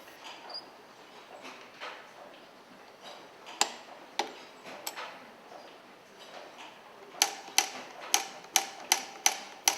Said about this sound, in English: It reproduces the motion of the hammer striking the chisel as the file moves below